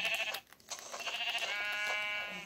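Sheep bleating in the video game Minecraft, several harmonic, wavering bleats close together and loud, with a brief pause before a long sustained bleat.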